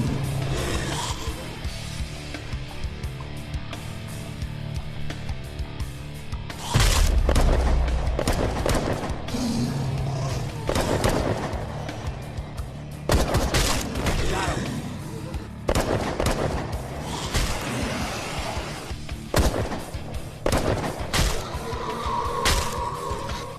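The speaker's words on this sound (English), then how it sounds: "Suppressing fire." Suppressing gunfire in a war movie battle scene: repeated loud sharp shots and booming bursts scattered irregularly across the stretch, layered over a continuous rumbling background with shouted voices in between.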